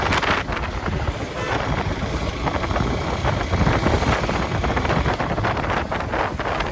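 Heavy wind buffets the microphone in a loud, continuous roar while riding fast on a motorbike, with no clear voices.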